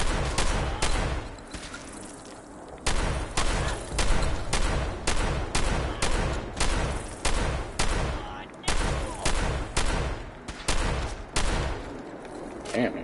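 Gunfire cracks all around the player in the Fallout 4 video game, a loud, close run of rapid, evenly repeated shots that keeps going with only a short lull near the start.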